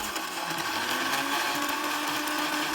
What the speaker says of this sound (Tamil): ஒரு மிக்ஸி ஜாரில் ட்ரான்ஸ்ஃபர் பண்ணி நல்லா ஃபைன் பேஸ்ட்டாக அரைச்சிக்கோங்க